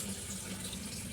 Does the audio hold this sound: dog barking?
no